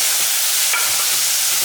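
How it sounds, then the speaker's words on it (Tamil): Tomatoes sautéing in a mushroom curry base make a steady, close sizzle, with a brief scrape of stirring partway through. "அதில் தக்காளியை இந்த அளவுக்கு நல்லா வதக்கிடுங்க"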